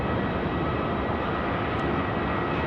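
A plane landing on runway 16 right at Sydney Airport at night gives a loud, continuous engine roar that stays steady and close, with no voices over it.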